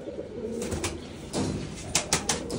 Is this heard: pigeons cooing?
yes